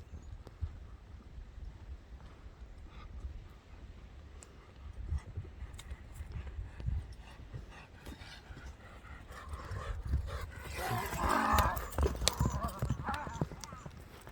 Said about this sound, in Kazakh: Мен ат мингенде негизи ушундай чабам да